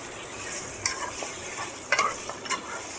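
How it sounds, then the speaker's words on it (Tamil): Mutton frying in oil with a little rock salt is stirred in a pan, giving a steady close sizzle with a few sharp scrapes of the spoon against the metal. "இப்போ இந்த மட்டனில் கொஞ்சம் போல் கல்லுப்பு சேர்த்துட்டு இதை நல்லா கிளறி விட்டுக்கலாம்."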